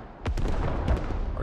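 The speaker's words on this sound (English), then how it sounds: "Artillery." Artillery shells land during a Squad match, several heavy booming impacts in quick succession with rumbling low tails, loud and fairly close.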